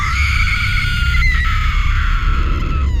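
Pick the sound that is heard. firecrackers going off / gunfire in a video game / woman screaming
woman screaming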